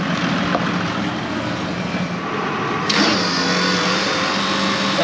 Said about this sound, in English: This hydraulic pump circulating the liquid through the system.